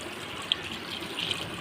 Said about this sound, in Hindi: ये मैंने पानी ले लिया 1 कटोरा मैक्रोनी पर डालने के लिए